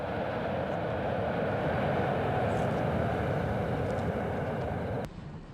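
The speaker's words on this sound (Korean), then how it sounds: "비행기로 17시간." Steady broadband roar of an airliner in flight on a long transpacific trip to the United States, a loud continuous cabin drone with no talk, cutting off abruptly near the end.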